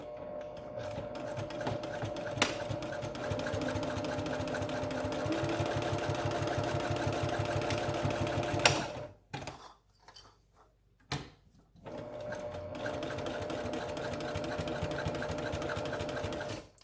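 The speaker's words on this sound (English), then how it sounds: "Sew on top of your casing, but don't sew over your tie." Sewing machine stitching a fabric face mask, a steady rapid running hum for about nine seconds, a short pause with a couple of clicks, then stitching again, close and loud.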